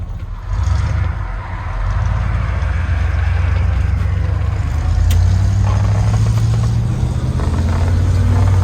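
A 1978 Ford F-150 Ranger pickup truck engine rumbles steadily as the truck drives off, a loud continuous low drone with a slight rise in pitch partway through and no talk.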